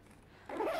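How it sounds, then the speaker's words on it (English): A zipper pocket on the left side of a large-capacity men's commuter laptop backpack is pulled open, a short quiet pause followed by a close, bright rasping zip that runs to the end of the clip. "there is a zipper pocket. So open that."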